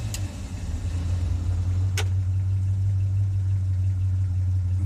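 A truck engine idles steadily and quietly just after a repair to its exhaust donut gasket, giving a smooth, low, continuous hum close by, with one brief sharp click near the middle and no speech.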